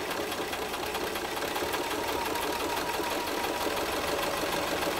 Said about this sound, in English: And just sew it on there.